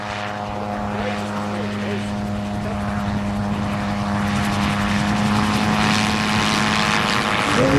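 A gyrocopter fitted with a silent drive PSR flies slowly past at a Bensen Days gyro event in Wauchula, Florida, its steady propeller and engine drone holding strong and close throughout while an announcer talks over it.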